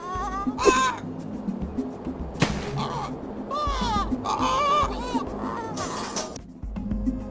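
Crow-like birds caw repeatedly in harsh bursts amid crashes and scuffling in the Ice Age 3 video game, loud and busy with overlapping calls and vocal sounds.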